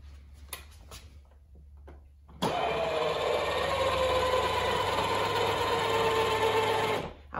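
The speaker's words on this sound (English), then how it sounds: "put it into low speed so you can see these wheels moving." The electric motor of a kids' 12V ride-on ATV whirs steadily as the lifted wheels spin at low speed, a close, continuous hum that starts abruptly and stops just as suddenly after a few seconds of quiet handling noise.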